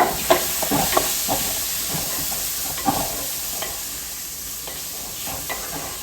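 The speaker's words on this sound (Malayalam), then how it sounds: "തക്കാളി എടുത്ത് നല്ലോണം ഇളക്കുക" Tomatoes being stirred into browned frying onions for a Kerala-style sardine chilli curry: a steady sizzle and hiss with repeated scraping spoon strokes against the pan, close and continuous, no talk.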